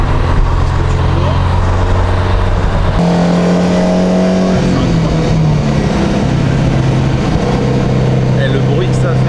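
A rally car's engine and exhaust roar loudly from inside the cabin, holding a steady drone before the revs shift and climb through gear changes, with continuous mechanical noise throughout.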